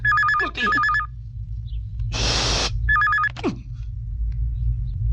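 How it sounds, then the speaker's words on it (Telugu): A telephone rings in a movie scene with two short bursts of warbling electronic trills, then a harsh hiss of noise, then another ring, all over a low steady rumble. "అర్జున్ గారి ఫోన్ ఏంటది?"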